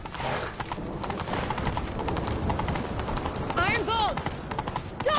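Horse hooves gallop in a fast, drumming rhythm with a horse neighing briefly near the end, amid busy game action and a voice, in The Witcher 3: Wild Hunt.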